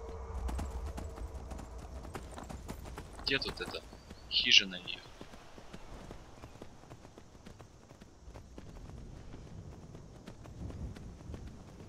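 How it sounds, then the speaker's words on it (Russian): A horse gallops in Skyrim with the Undeath mod: hoofbeats run steadily throughout while someone talks over them, and a sharp burst sounds near the middle. "Моя верная лошадь."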